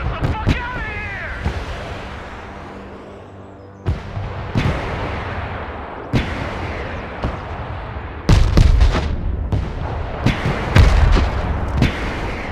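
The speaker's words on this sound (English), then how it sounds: "the Lithuanian artillery responded" Artillery fire in the Broken Arrow war video game, with repeated sharp loud booms at irregular intervals and echoing tails between them, some shots clustered close together.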